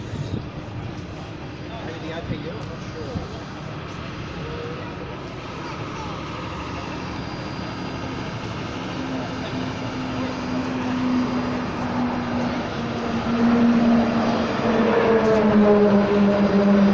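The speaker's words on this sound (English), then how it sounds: "So 737-700 is a much smaller aircraft than the Poseidon." Boeing 737-700 passing at an air show at Edinburgh, South Australia, as a broad jet roar that swells steadily and grows loudest near the end, with people talking throughout.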